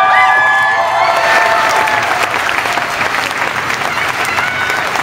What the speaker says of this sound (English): If we could please get a cheer for the fabulous Brett Crowe pre-show.